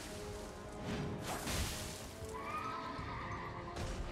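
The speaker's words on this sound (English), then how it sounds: "the horse just reared up" A horse in the video game Elden Ring neighs loudly as it rears up, a shrill whinny over a busy game backdrop with hoof clatter and whooshing effects.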